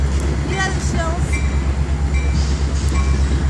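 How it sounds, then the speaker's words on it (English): A train rumbles past nearby in downtown Elgin with a steady low roar and some squealing, clattering metal tones. "And there's the train."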